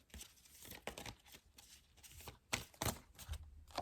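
Tarot cards shuffle and flick in short soft bursts, a quiet papery riffling with brief pauses, ending in a sharper snap as a final card is drawn.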